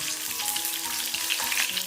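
Winter melon slices pan-fry slowly in hot oil over low heat, making a continuous close crackling sizzle with small irregular pops, and no talk.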